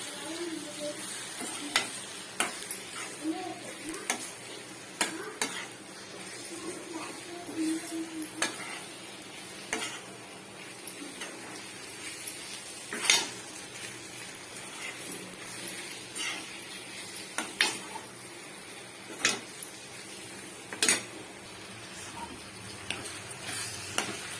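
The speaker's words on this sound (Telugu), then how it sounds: "ఇలా వేసుకుందాన్ని ఇలా కలబెట్టుకోవాలి మంచిగా" Lemon pickle mixed with chili powder and oil, stirred steadily with a spoon in a bowl, giving soft wet scraping and sharp clicks of the utensil against the container at irregular intervals, fairly close and quiet with no talking.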